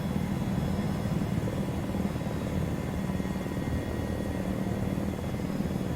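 A helicopter in the video game Arma gives off a continuous low rotor thrum and engine drone at steady volume throughout, with no voices.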